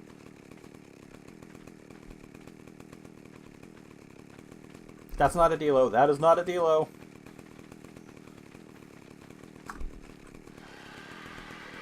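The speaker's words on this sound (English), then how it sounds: "I actually kind of do want to cut it with my chainsaw." A chainsaw in the video game ARK Survival Evolved revs in a short, loud, harmonic burst of under two seconds, with a faint low game hum around it and someone talking before and after.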